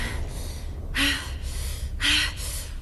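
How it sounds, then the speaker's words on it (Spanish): Two short breathy gasps from a character in Resident Evil Remaster, about a second apart, each a brief airy burst over a steady low background rumble of game ambience. "Esos jadeitos me ponen bruta."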